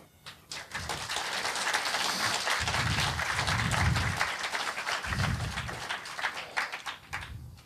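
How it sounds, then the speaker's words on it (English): Sustained applause from a conference audience at a lightning talks session, dense clapping swelling and holding steady for several seconds before thinning out near the end. "please give a warm round of applause to Charles Yarnold"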